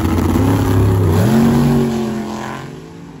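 A classic C2 Corvette drag race car blasts off under full throttle, its loud engine note climbing through the gears and then fading as it pulls away, with no voices.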